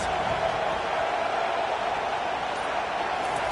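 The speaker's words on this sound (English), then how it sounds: "Listen to this crowd just shaking the girders of this place, trying to help their defense." Dense roar of a stadium crowd at a college football game, shaking the venue as fans try to help their defense during a big play, a steady loud wall of cheering with no gaps.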